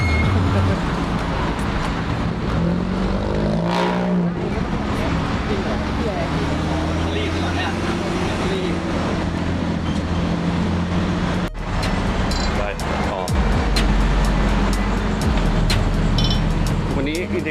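Busy highway rest area at night with many cars, a dense wash of engine and traffic noise, passing vehicles swelling and fading, while people talk over it close by.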